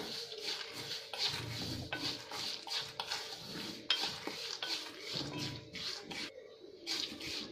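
A spoon scraping and stirring masala peanuts with powdered sugar in a metal pan, steady rubbing and clinking strokes that keep going at a moderate level, with no talk.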